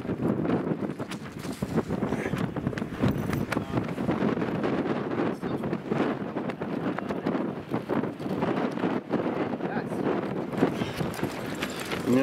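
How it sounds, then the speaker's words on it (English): Wind blows steadily across an open hillside wild-camping spot in the Howgills in the morning, a continuous rough gusty rush with buffeting against the microphone and no clear talk. "That wind's still a bit bitey."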